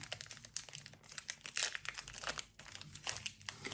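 A crinkly plastic package of German fruit salad snack is pulled open and handled, producing continuous close rustling and crackling with sharper crunches, moderately loud and with no talking.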